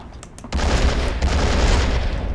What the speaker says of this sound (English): And that is the hull machine gun at work